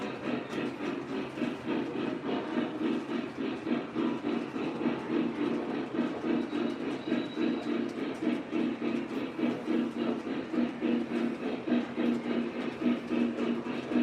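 A Vision Line Class A model locomotive runs along the track with a soft, steady rhythmic chuff and faint rail clatter, quiet and continuous.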